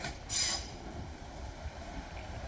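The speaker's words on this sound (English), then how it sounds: "Right, so here's my next train. It is 156471." Northern class 156 diesel unit 156471 arrives on the Cumbrian Coast line, a moderate rumbling approach with a brief high wheel squeal near the start, then steady rolling noise.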